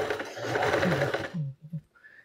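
Quiet sewing machine stitching a quilt block seam, a steady whir for about a second and a half, then a few short stuttering bursts as it slows and stops.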